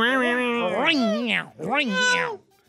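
A person on a Spanish-language radio show mimics a cat with two drawn-out, meow-like vocal cries, close and loud, each rising and then falling in pitch.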